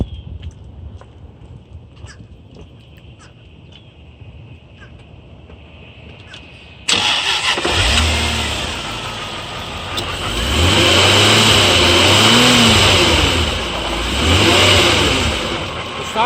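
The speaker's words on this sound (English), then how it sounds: "let's check out the sound of the engine. I'm gonna start it." Jaguar XJR Supercharged engine cranks after a stretch of quiet, then catches and settles into a loud idle near the engine bay. Two rising and falling revs follow, with supercharger whine over the exhaust note.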